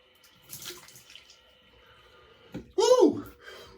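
Very cold water splashes during a face rinse at the end of a razor shave. Faint trickling gives way to a short, close burst of splashing, followed by a sharp exhaled vocal reaction.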